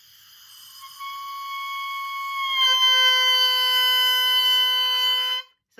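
An oboe reed crowing alone, close and clear: a thin sharp tip crow rises into a fuller buzzing multi-tone squawk that drops flat as breath pressure increases, holding steady for several seconds before cutting off.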